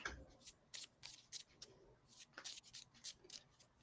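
Tarot cards being shuffled by hand during a reading, in quick soft riffling bursts that come and go in an irregular rhythm, close and fairly quiet with no talk over them.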